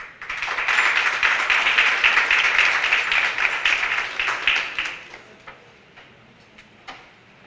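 Sustained audience applause at a parent graduation ceremony, a loud dense wash of many hands clapping that holds steady for about five seconds, then thins into scattered claps and fades away.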